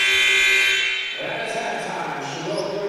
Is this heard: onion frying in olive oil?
no